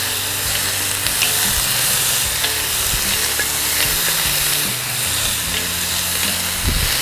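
Bison meat and baby corn stir-frying in a hot pan, a steady loud sizzle and hiss with bursts of stirring and scraping throughout, no voices.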